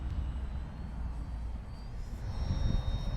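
An E-Flite Valiant RC airplane flies overhead in stormy wind, its electric motor a thin, distant whine rising in pitch above a constant rumble of wind buffeting the microphone.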